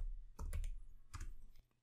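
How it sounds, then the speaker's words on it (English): A computer keyboard is used to type a short name into a spreadsheet: a few quick, quiet clicks arrive in two small bursts, then stop. "I'll just type out Lewis, which is the last name for this specific row"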